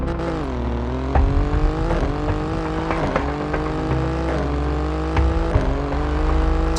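BMW M3 G80 and Alfa Romeo race cars in a video game, both running on nitro, drone with loud, steady engine roar, rising and dropping in pitch through several gear shifts and revs.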